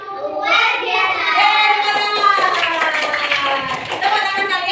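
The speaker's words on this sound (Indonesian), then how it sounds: "Jadi tepuk tangannya yang seru ya." Children in a classroom clap their hands together in a lively burst, with young voices chanting along over the clapping.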